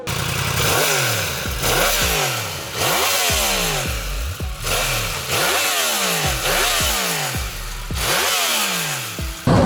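A 2022 Yamaha MT-10 motorcycle engine revs up loudly again and again, each rise in pitch followed by a gear change and another climb, recorded up close.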